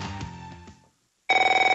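A telephone bell rings in a radio advert, first as a fuller ringing with musical tones that fades out. After a brief silence, a loud, close, rapid electronic trill follows with evenly pulsed bursts.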